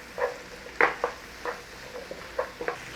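Potatoes and onion being stirred round a frying pan, with a soft sizzle under a series of short scraping, clinking strokes from the utensil.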